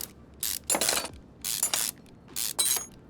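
Three short bursts of a ratcheting wrench unbolting a drive shaft in Car Mechanic Simulator 2021, each a quick mechanical clatter with quiet gaps between, close and clear with no talk.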